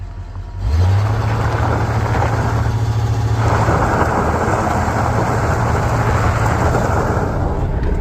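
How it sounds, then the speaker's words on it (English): 1985 Mercury Marquis with a 351 Windsor V8 and variable venturi carburetor, revving hard in a burnout attempt, a loud, steady low roar with tire hiss close by, no talking. "I could probably get the tires spinning"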